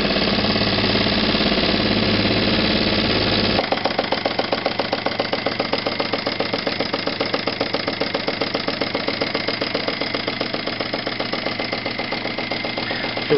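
Small engine idling close by, with a loud steady drone that shifts partway through into a rhythmic, evenly pulsing chug held for several seconds.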